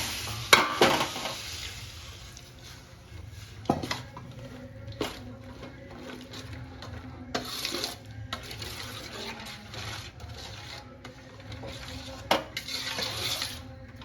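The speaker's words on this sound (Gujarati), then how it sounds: "આ રીતે દૂધ પણ બળી જાય ત્યાં સુધી આપણે આ રીતે હલાવ્યા કરશું" Milk is stirred into a dry fruit and water chestnut flour mixture for salampak in a pan, giving a soft sizzle with repeated scraping and knocking of the spoon against the pan, close and moderately quiet.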